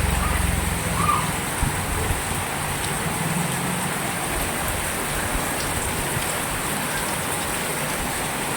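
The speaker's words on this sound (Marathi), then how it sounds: "खूप मोठा पाऊस पडत आहे बघा मुसळधार पाऊस पडत आहे बघा" Heavy first-of-season monsoon rain pours down at More Vasti, Chikhli, Pune, a dense, constant hiss of drops on surfaces that stays loud and even from start to finish.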